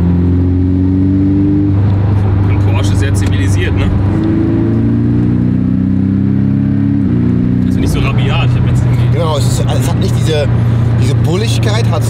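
A Porsche 718 Cayman S engine drones steadily while driving, its pitch shifting as the car changes speed, with people talking over it throughout.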